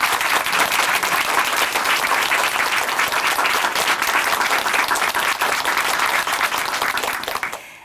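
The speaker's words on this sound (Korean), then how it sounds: "다시 한번 큰 박수 보내드릴게요." Sustained, loud audience applause at a Korean Christian church television program, dense clapping filling the whole stretch without a break before tapering off right at the end.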